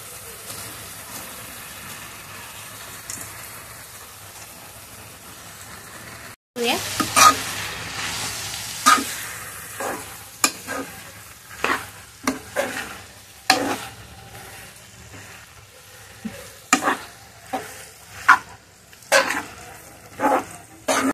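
Noodles tossed and stir-fried in a pan, a faint sizzle that jumps louder after a sudden break, then repeated sharp scraping and stirring strokes over a hot surface, close and with no speech.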